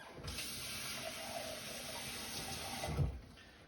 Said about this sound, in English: Looks like we're gonna actually need more water anyway, so let's put a little bit.